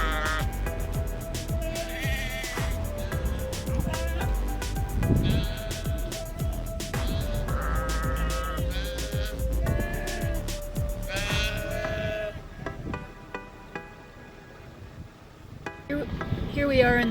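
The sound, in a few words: sheep bleating on a mountain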